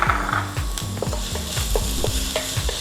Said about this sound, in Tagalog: Ngayong mainit na siya, ang una nating gisahin is ang ginger